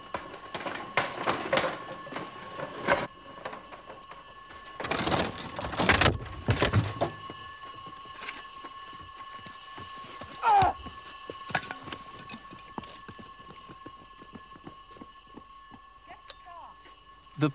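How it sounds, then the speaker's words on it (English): An audible alarm rings out during a police incident at a building, a steady tone sustained through much of the stretch beside bursts of louder noise and brief voices. "At this point, an audible alarm went off."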